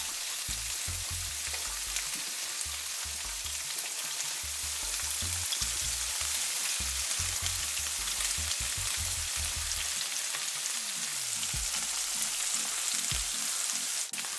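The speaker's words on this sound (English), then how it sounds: "zucchini, red bell pepper, yellow bell pepper, onion, just sending that all into a pan as well. Basically kind of like a stir fry" Zucchini, red and yellow bell peppers and onion stir-fry in a hot pan, giving a loud, steady crackling sizzle up close, with occasional low thumps and knocks from the pan and utensils beneath the hiss.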